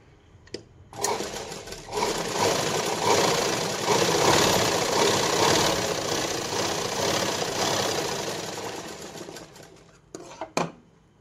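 A sewing machine stitching a katori blouse lining runs as a continuous mechanical whir for about nine seconds. It starts and stops with brief clicks at each end, is close and fairly loud, and no one speaks.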